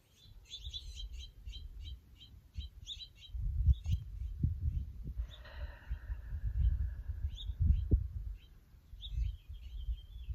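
Birds chirp in quick, repeated high tweets, with a longer trilling call later. Under them runs a constant soft low rumble that throbs now and then. The birdsong is moderately near and clear, and no one speaks.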